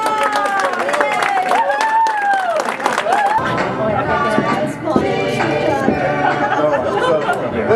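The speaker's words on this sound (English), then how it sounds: "Let's give them a nice round of applause." Audience at a class of '61 reunion gathering claps and chatters, a dense steady wash of applause and crowd voices with some louder talk near the start.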